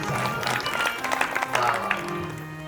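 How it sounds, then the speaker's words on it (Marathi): An audience at a devotional kirtan gathering claps together in a steady burst of applause, with voices and crowd murmur mixed in throughout. "एकदा टाळी वाजव त्यांच्यासाठी"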